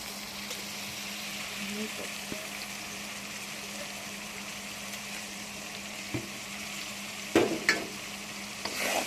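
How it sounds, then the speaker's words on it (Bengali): Meat curry with spices is stirred in a frying pan over a low, steady sizzle, with a few scraping clicks of the spoon toward the end; fairly quiet and close. "এই পর্যায়ে নাড়তে থাকবো"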